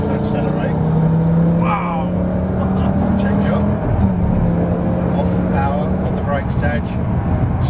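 A sports car, such as a Ferrari, Lamborghini or Nissan GT-R on a driving-experience track, with a steady engine tone rising slowly in pitch as it accelerates, heard from inside under continuous instructor talk.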